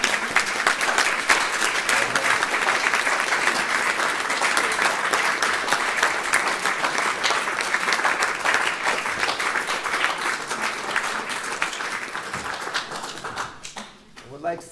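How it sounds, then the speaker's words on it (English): Audience applause fills a theatre after a stage performance, a steady wash of many hands clapping that holds strong for over ten seconds before tapering off, with voices briefly audible at the end. "we'd like all of you to give a real round of applause"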